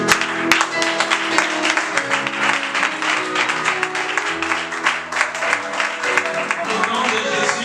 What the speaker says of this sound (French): et tu peux applaudir